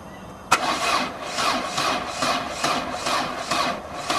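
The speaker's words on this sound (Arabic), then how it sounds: "اما الصوت اللي انت هتسمعه دلوقتي فمعناه ان البطارية فاضية شحن او بايظة" Car starter cranking slowly on a weak or dead battery, a click followed by labored, rhythmic churning strokes about twice a second, close and fairly loud with no talk.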